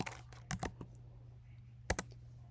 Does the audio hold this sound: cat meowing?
no